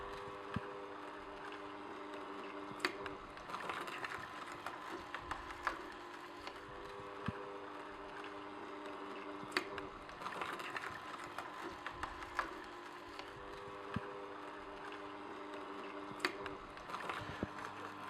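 An Omega Juice Cube 300 juicer grinds beet strips with a steady low motor whir and scattered crunching clicks and knocks, fairly quiet and continuous throughout.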